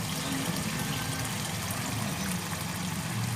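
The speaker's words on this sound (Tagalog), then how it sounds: "lagyan natin siya kaunting tubig lang kasi may sabaw na siyang bahagya" A faint, steady trickle of a little water poured into a pan of cooking pork giniling, running continuously with a low background hum.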